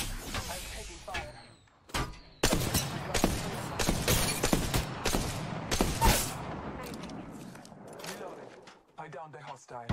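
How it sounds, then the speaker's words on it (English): Gunfire in the Apex Legends video game, with bursts of shots, impacts and shatters packed together in a dense, loud exchange. A voice speaks briefly at times. "Getting shot at."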